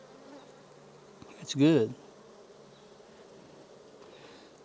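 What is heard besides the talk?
honey bees buzzing around a nuc hive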